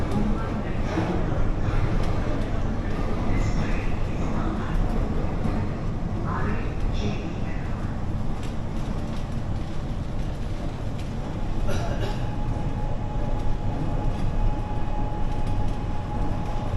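Inside a carriage of the Mumbai metro during a smooth ride, a steady loud rumble and rolling hum from the train fills the whole stretch, with faint voices and passing clatter mixed in.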